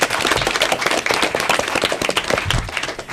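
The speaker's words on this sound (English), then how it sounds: "Let's hear a round of applause for yourself." Audience clapping for the teams after an elementary school academic quiz match, a steady dense round of applause with scattered sharp claps, fairly close and even throughout with no talk.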